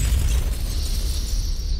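A grenade blast in a battle royale shooter, heard as a loud, sustained low rumble with a sharp crackling edge that rolls on for nearly two seconds without fading, with no talk over it.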